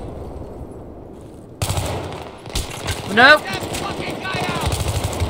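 Burst rifle fire in Battlefield 3: short clusters of rapid shots crack loudly in the foreground, mixed with other game sounds, while a player speaks briefly.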